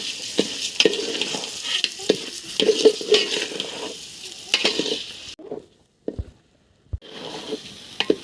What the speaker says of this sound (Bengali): চালগুলো আমি সুন্দর করে ভেজে নেব।